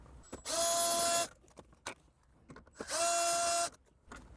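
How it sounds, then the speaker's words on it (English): A powered ratchet backs out 10mm bolts from the dash of a 2014-2021 Lexus GX, heard as two close, loud bursts of whirring, each under a second long, with quiet pauses between and no talking. "I'm going to remove these two 10mm bolts here."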